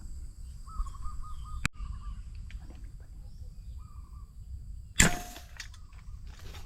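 A sharp snap of an arrow shot at a fish in floodwater, followed by a louder splashing impact a few seconds later, over a quiet outdoor background with faint birds and insects.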